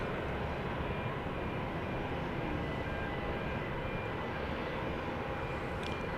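A Southwest airliner taxis toward its gate at Dallas Love Field at night, its engines giving a steady, moderately loud jet drone with a broad rumble and a faint whine that holds steady with no pauses.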